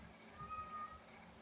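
Cats in a lab yowl faintly in the background, a thin drawn-out cry rising and fading over a brief stretch beneath a quiet room.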